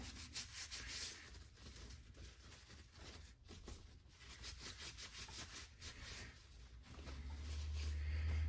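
Shop towel rubbing and wiping over hand tools during cleaning, soft repeated scrubbing strokes at close range, quiet overall with a low hum rising near the end.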